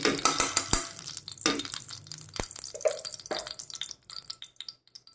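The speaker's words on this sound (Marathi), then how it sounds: "हिरवा मटार आपण आता बारीक केलेला आहे, चांगला छान पैकी असा भाजून घेऊया, परतून घेऊया तुपावरती" Crushed green peas are stirred and roasted in ghee in a kadhai over a low flame, with irregular scraping strokes of a spoon against the pan, sharp clacks and a faint soft sizzle, close and alone.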